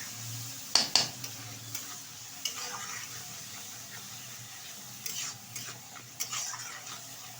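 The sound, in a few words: stir-frying ground cumin, ginger and chili paste for cabbage curry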